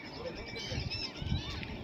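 Seabirds call from the shore at Jamnagar in Gujarat, their faint honking cries rising over the lapping surroundings while people talk nearby.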